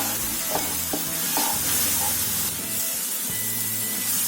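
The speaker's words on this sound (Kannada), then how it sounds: "ನೋಡಿ ಮಸಾಲ ಎಲ್ಲ ಚೆನ್ನಾಗಿ ಫ್ರೈ ಆಗಿದೆ" Masala spices — chilli powder, coriander powder, garam masala, turmeric and salt — sizzle and fry in a pan for bhindi curry, a steady close hiss broken by a few stirring scrapes and clinks.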